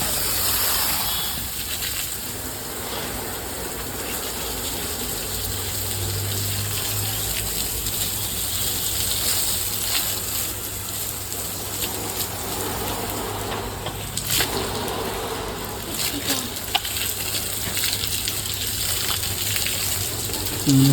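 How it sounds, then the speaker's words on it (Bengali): Water from a motor pump gushes steadily while watering garden plants, a continuous rushing flow with a low pump hum underneath and brief splashy surges. "পানিটা হচ্ছে এখন এই গাছগুলো দিয়ে দিই যেহেতু মটর থাকছে"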